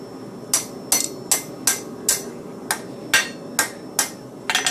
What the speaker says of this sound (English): I feel like it's much cleaner and smoother just doing it right at the anvil.